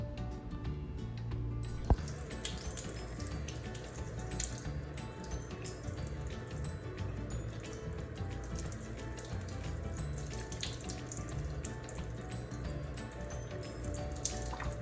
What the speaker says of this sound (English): We'll start by rinsing our hands.